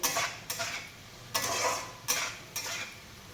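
Mutton curry being stirred and sautéed in a pan, with a steady close sizzle and about five distinct spoon-against-pan scrapes at an uneven rhythm.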